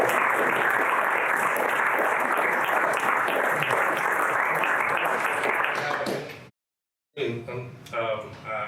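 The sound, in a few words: audience applause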